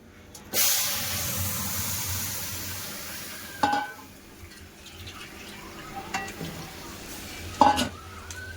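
Mung dal is poured into hot mustard oil tempered with cumin, dried chillies and bay leaves in a kadai, giving a burst of sizzling hiss followed by steady frying and a few stirring scrapes.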